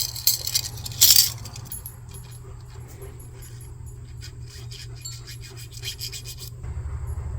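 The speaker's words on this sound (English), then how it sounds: "Okay, welding tip cleaners." Seized carburetor jets being cleaned with welding tip cleaners, close, light scraping and rasping over a steady low hum, with a sharper clinking burst near the start.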